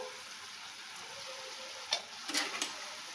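Curry being stirred in a pan right after sugar goes in, with a quiet ongoing sizzle and a few sharp scraping taps of the spoon near the end.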